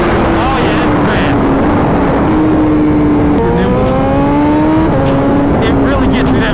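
A 2021 BMW M1000 RR superbike revs hard and climbs quickly through its rev range, its engine note rising in loud, steady sweeps with gear changes, heavy wind rush over the microphone throughout.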